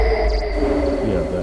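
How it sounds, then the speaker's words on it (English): A hollow, breathy tone from a Nord Micro Modular synthesizer, like air blown across a bottle mouth, sustains steadily alongside a low drone and faint high whistling. "can you hear a sound that sounds like someone blowing over a bottle?"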